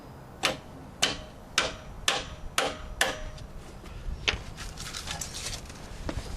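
A shim is tapped into a sagging gate with a hammer: six sharp, evenly spaced knocks roughly half a second apart, followed by a few lighter, quicker taps, close and clear against quiet background.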